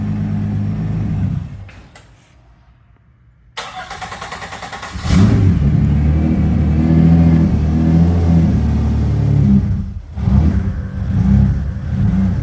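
An Oldsmobile diesel car, newly finished and out of its garage for the first time, cranks briefly, then catches and runs with a loud, steady, rough diesel drone that surges once near the end, close by and with no talking.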